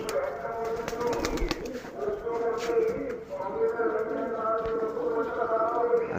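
Domestic pigeons at a loft in Rajshahi, Bangladesh, coo in low, rolling throaty phrases that run steadily throughout, mixed with faint shuffling and a voice talking and calling to the birds.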